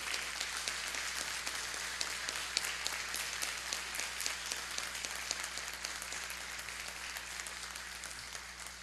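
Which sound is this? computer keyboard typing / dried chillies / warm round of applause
warm round of applause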